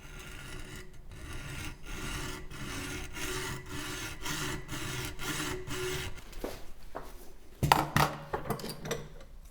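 A threaded pipe for an RV cassette toilet setup is cut to length with steady, rhythmic rasping hand-saw strokes for several seconds. Near the end it gives way to a brief clatter and knocks.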